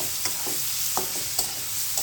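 Ripe jackfruit fries in a pan under a constant loud sizzle, broken by several distinct scraping knocks as it is stirred.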